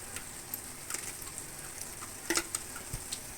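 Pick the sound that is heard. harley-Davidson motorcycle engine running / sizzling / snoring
sizzling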